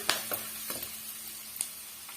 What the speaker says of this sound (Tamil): இது எல்லாம் இந்த எண்ணெயிலேயே நல்லா பொரிஞ்சு வரட்டும்।